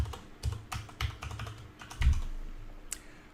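Someone typing on a computer keyboard while entering a domain, username and password during software installation, a quick irregular run of close key clicks ending in a heavier thump near the end, with no talking.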